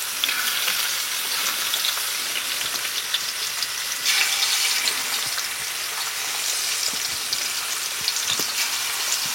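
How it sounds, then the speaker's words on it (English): Lamb chops frying in a hot pan, a loud, close, steady crackling sizzle like heavy rain with scattered pops, swelling briefly midway, no talk. "we're just getting in some lamb chops. And we're gonna fry these in batches"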